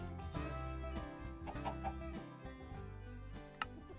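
Chickens cluck continuously in Minecraft, with a steady layered game clucking and soft background music, close and moderately quiet with no talking.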